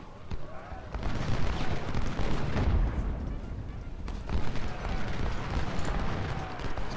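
Artillery and rifle fire from an Ultimate General: Civil War battle at First Winchester, a dense, continuous rumble of booms and crackling volleys with a few louder blasts standing out, no talk.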